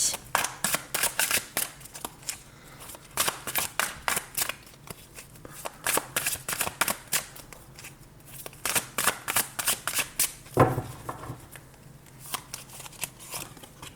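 Tarot cards being shuffled by hand, a long run of quick crisp riffling flicks, close and fairly loud, broken by a few short pauses and one dull knock near the end.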